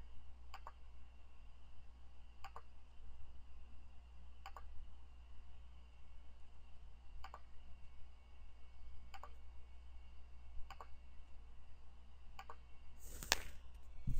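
Computer mouse clicking while painting letters in Photoshop, about nine single, faint, crisp clicks spaced a second or two apart over a low steady hum, ending with one sharper louder click.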